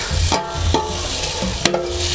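Food sizzles in a hot wok while a utensil scrapes and clanks against it in a few sharp strokes, close by.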